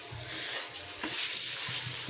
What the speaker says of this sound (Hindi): इसमें अब मैं ये आलू जो हमने मैश किए थे ये मैं ऐड करूंगी। इसे मिक्स करेंगे।